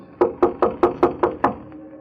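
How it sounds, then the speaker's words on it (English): Seven quick, evenly spaced knocks on a door in an old-time radio detective drama, crisp and close, with no voices. "knocked on cue"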